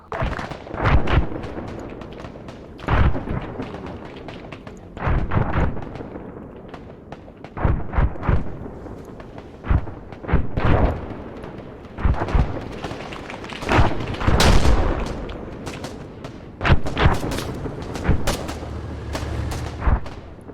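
Mortar firing high-explosive rounds in a military video game, a long series of heavy booming shots and thumps at irregular intervals, some deep and distant, with a rumble between impacts.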